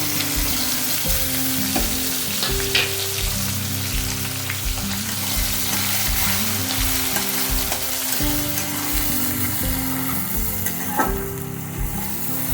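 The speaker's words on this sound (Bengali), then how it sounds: "পেঁয়াজটা ভাজা হতে থাক" Finely chopped onion fries in oil left from frying potatoes with panch phoron, a loud, steady close sizzle with occasional stirring scrapes, over soft background music.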